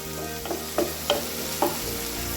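Tomatoes with turmeric cook in a pan for a rice water curry, giving a continuous close sizzle broken by a few soft stirring knocks before the sound drops away.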